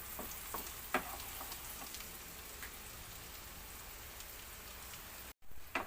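Garlic frying in butter until toasted, for buttered garlic broccoli, gives a soft, steady crackling sizzle heard fairly faint, with a few light clicks of stirring and a brief cut near the end.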